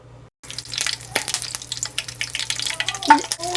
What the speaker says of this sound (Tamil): இந்த எண்ணெயில் 2 வரமிளகாய் போட்டுக்கலாங்க. ஒரு 5-6 கருவேப்பிலை போட்டுக்கலாம். முதல்ல இது கொஞ்சம் எண்ணெயில் பொரியட்டும்.